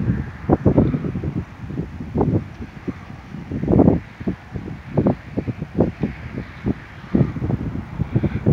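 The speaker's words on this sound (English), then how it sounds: "Little bit of wind, but nothing terribly strong." Outdoor wind of about ten miles per hour buffets the microphone under dark storm skies in Bartlesville, Oklahoma, producing loud low rumbling gusts that rise and fall in uneven bursts.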